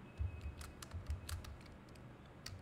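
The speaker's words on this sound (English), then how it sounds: "let's start the typing quickly" Quick, irregular clicks of typing on a computer keyboard during spreadsheet work, close and fairly quiet, about a dozen keystrokes in uneven bursts with no talking.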